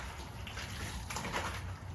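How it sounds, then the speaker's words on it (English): Water sloshes and splashes softly in a big rubber basin as clothes are washed by hand, a faint, continuous wet swishing up close with a few slightly louder splashes. "There's going to be a lot of water splashing everywhere"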